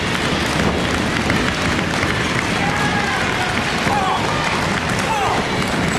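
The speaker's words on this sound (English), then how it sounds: "The fans starting to clap for him." A wrestling crowd at a 2005 event claps steadily for Brad Thomas, producing a dense, continuous patter of applause under a commentator's talk.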